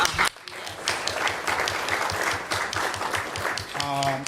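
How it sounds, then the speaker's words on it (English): A crowd applauds steadily for several seconds, a dense patter of clapping with a voice starting to speak as it fades. "Give Gloria a round of applause for that."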